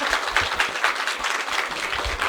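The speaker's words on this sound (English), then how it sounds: "Can we give a massive round of applause" Audience applause for a guest speaker named Ellie at a music-industry talk, a steady broadband patter of many hands clapping at close range, holding even throughout with no voices over it.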